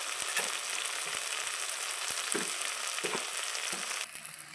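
Spice masala with salt, turmeric and Kashmiri chilli powder sautéing in oil in a pan, a constant soft sizzle with several distinct spatula taps and stirs, fairly quiet and close, easing off near the end.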